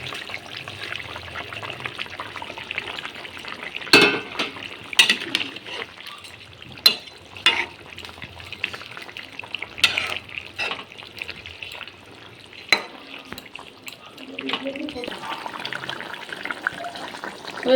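Fried phali fish pieces go into a boiling fish curry with potatoes, giving a bubbling, simmering liquid sound broken by sharp clatters and splashes at irregular intervals as each piece drops in and is stirred.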